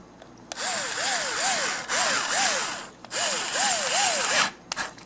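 Cordless power driver running screws back into a plastic fan housing, whirring in several bursts with rising and falling pitch as each screw is driven, close and loud with short pauses between.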